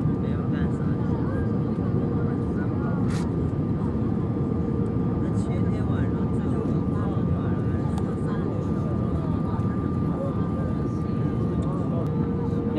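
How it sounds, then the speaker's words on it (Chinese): Steady airplane cabin roar during the descent before landing, a dense even engine and airflow drone with a faint constant hum, continuous and unchanging throughout. "我们的飞机马上就要着陆了"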